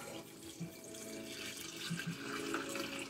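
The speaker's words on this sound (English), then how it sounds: "So we're going to go ahead and put some water in here." Water poured from a container into a crock pot for a Mississippi pot roast, a soft steady splashing and trickling, faint and close, with small gurgles.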